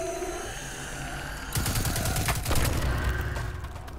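A burst of rapid gunfire and explosions erupts suddenly in the video game Destiny 2, loud and dense, rattling on for a few seconds.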